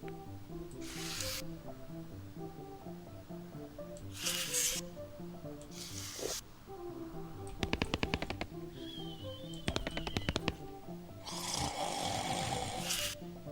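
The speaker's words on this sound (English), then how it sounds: "I can hear some snoring." Rhythmic cartoonish snoring from the West of Loathing video game repeats steadily throughout, mixed with bursts of game gunfire, rattling clicks and a short hiss, with no voices.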